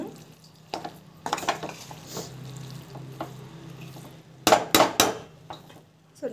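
Soaked poha sautéing in a pan while a spoon stirs it, giving soft scraping and clinks over a low steady hum, with a louder burst of rapid scrapes near the end.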